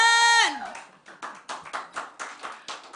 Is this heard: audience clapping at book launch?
yes